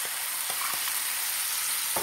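Chopped tomatoes fry in a hot pan with a steady, close hiss of sizzling oil and a few faint clicks of stirring.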